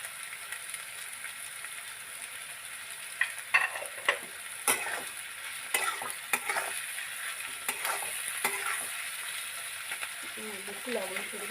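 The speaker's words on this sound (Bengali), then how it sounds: "এবার কুচানো পেঁয়াজগুলো দিয়ে ভালো করে লাল লাল করে ভাজবো" Chopped onions with a pinch of salt fry in a pan with a steady sizzle, broken by repeated clicks and scrapes of stirring, and a voice is briefly heard near the end.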